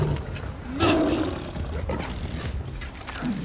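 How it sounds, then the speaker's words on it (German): A large tiger in the video game Far Cry Primal roaring during a fight, a loud growling roar near the start that fades into rumbling snarls and scuffles. "Großer Tiger."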